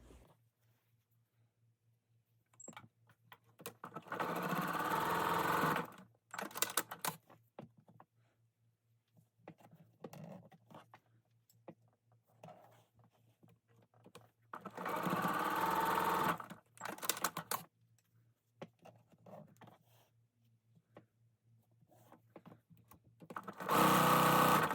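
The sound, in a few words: sewing machine sewing half square triangle quilt units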